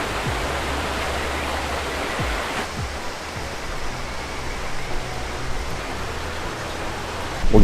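Waterfall in the woods at the Ginzan Onsen hot-spring village in Japan: a steady, full roar of falling water, loud and unbroken throughout, with no voices.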